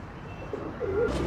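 A Teddy Golden pigeon coos close by in a breeder's loft, one soft rolling call rising near the end over a low background hum.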